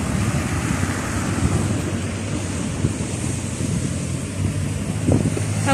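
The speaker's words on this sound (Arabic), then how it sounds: "كتشوفوا البحر اليوم الهواء مسحب." Strong wind buffets the microphone while sea waves roll and wash against the shore at Larache, a constant roaring rush with occasional louder surges, no voices.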